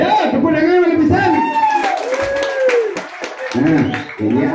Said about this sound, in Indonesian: ayo tepuk tangan lebih besar